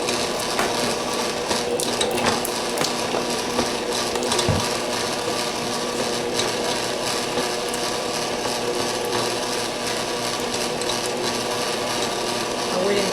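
A mixing machine beats buttercream made without icing sugar, a steady, loud, close mechanical whir and rattle running unbroken through the whole stretch with no talk.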